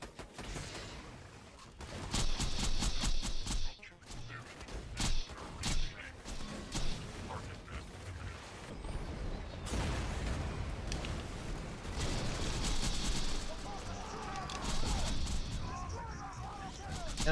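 Headbanger shotgun blasts in the video game Exodus: repeated loud gunfire bursts and explosive impacts in a busy combat mix, with game effects and a voice talking throughout.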